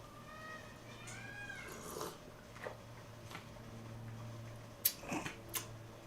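A cat meows several times, close and fairly quiet, against a low steady hum, with a few sharper knocks near the end.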